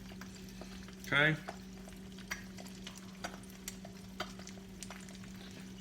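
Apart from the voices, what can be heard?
food frying in a pan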